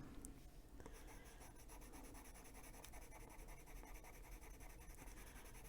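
Luminance colored pencil burnishing color into paper, a close, quiet, continuous scratchy rubbing with small stroke-to-stroke variations and no voices.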